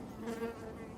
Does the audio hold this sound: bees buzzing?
yes